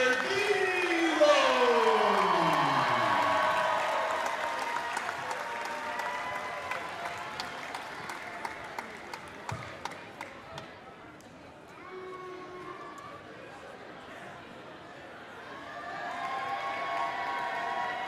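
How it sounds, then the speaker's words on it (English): A crowd applauds at a Concordia Cardinals basketball game in a gym, a dense, sustained clapping that thins out midway and swells again near the end, with a voice over the public address heard early on. "Please join us in a round of applause"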